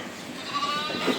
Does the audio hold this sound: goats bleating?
yes